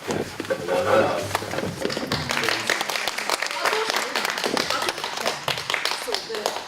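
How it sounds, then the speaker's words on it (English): An audience at a student recital claps continuously throughout, a busy, close patter of hands with no clear pause, while voices occasionally come through. "your very special applause for Russian, the first level"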